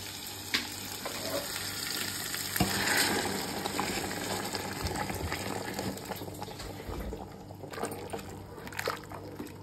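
Hot water poured into a naati-style chicken biryani pot sets off a soft, continuous sizzle and bubbling, fairly quiet and close, with occasional clinks and splashes.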